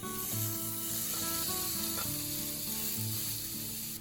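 Meat sizzling in an oiled waffle maker, a steady hiss with faint crackles under what sounds like soft background music, no voices.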